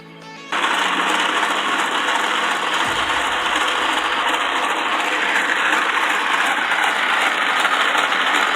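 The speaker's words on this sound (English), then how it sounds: "I'd rather using the sewing machine than sewing with my hand." A sewing machine starts up and runs continuously while stitching a DIY fabric mask, a loud close mechanical whir with a steady rapid needle rhythm and a slight shift in tone midway.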